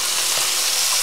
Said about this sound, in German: Im nächsten Schritt gebe ich jetzt den Knoblauch hier rein und den Knoblauch wirklich ganz lassen.